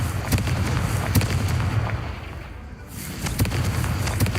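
Confringo spell blasts in the Hogwarts Legacy video game, a continuous booming, crackling barrage of explosive impacts with repeated sharp bursts, briefly dipping before surging again.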